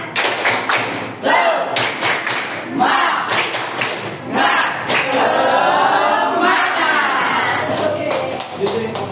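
A classroom of students performs a rhythmic spirit clap led by the teacher, loud bursts of clapping and thumping in patterned beats with voices chanting along throughout.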